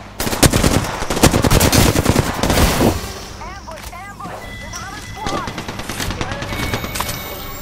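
Rapid automatic gunfire in a shooter video game hammers loudly in dense bursts, then eases into scattered, quieter shots while a player talks over the action.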